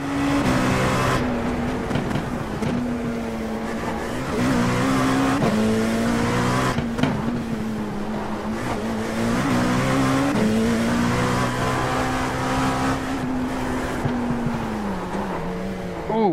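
An LMP2 race car in the iRacing sim roars continuously at high revs on the Belle Isle circuit, pitch rising and falling through shifts, with the rear wheels locking under braking amid a loud, sustained engine drone.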